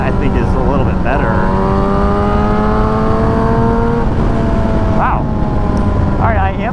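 A Yamaha YZF R6 sport motorcycle engine screams at high RPM on a sweeping road, holding a loud, steady high-pitched whine with brief rises and dips as the revs shift.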